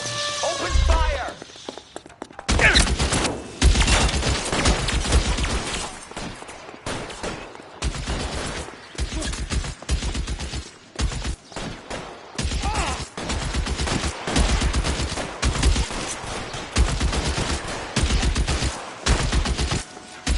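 Heavy gunfire fills a shootout in the video game L.A. Noire: dense bursts of rapid shots and single booming rounds repeat almost nonstop, loud and close, with voices calling out in between.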